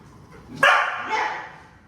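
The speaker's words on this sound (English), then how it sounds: "he got upset and started barking and trying to growl at her" A dog gives one sharp, loud bark that trails into a rougher, growling tail, close by, with no other sounds around it.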